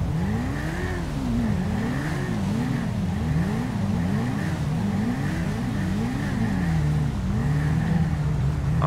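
A Hornet motorcycle with a straight-pipe exhaust in GTA V revs repeatedly, its engine note rising and falling in a steady rhythmic cycle, loud and close throughout.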